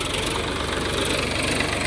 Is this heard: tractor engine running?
yes